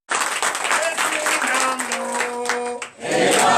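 Church congregation clapping in acclamation during a Sunday worship service, a dense burst of applause filling most of the moment, with a sustained tone and voices mixed in before it dips and swells again.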